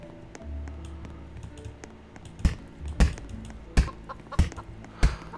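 Clucking from the Chicken Axe in Roblox Lumber Tycoon 2 comes in a series of sharp, punchy bursts over a low game hum. The clucks grow more frequent toward the end, and no one speaks.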